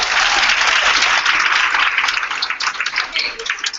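Warm applause from a room of women at a business meeting for a newly promoted district manager: loud, dense clapping that gradually thins into scattered, separate claps toward the end.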